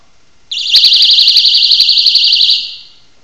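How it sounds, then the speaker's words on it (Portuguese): A personal safety alarm keychain shrieks suddenly, warbling rapidly at a high pitch for about two seconds before cutting off, loud and close. "É um alarme"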